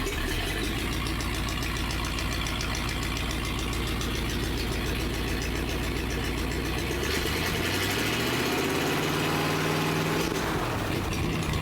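A stock, originally built Ford Flathead engine making 60 horsepower runs in a drag racing setting, a loud, steady rumbling idle close by that shifts pitch and roughens slightly toward the end.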